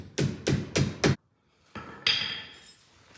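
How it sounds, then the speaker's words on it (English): A hammer taps a small roll pin into the front drive shaft of a Pro XP: four sharp, evenly spaced metallic strikes up close, then a pause and some quieter clattering handling noise. "We've got this little roll pin that we're just going to tap through there"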